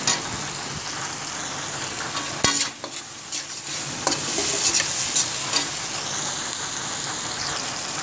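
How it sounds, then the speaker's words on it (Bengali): Fried rice being stirred with salt in a hot pan, a steady sizzle with spatula scraping throughout, close and moderately loud, with a few sharper clicks of utensil on metal and no talk. "এবার লবণটাকে দিয়ে আমি একটু নেড়ে চেড়ে দিয়ে দিচ্ছি"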